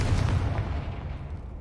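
A Confringo fire spell bursts in Hogwarts Legacy, a deep booming blast with a rumbling low roar that holds steady and then fades slightly over about two seconds, with no talking.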